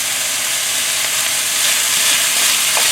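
Pork and giant yellow bean sprouts stir-frying in a covered pan give off a loud, steady hiss and sizzle of escaping steam, continuous and close, with no voices.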